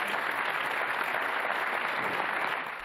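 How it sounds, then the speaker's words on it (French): Steady audience applause honouring an athlete at a year-end sports awards broadcast, a dense even wash of many hands at moderate distance, fading slightly at the end. "Vous pouvez l'applaudir, vous pouvez l'applaudir."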